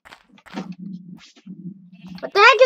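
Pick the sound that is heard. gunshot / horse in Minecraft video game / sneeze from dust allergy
horse in Minecraft video game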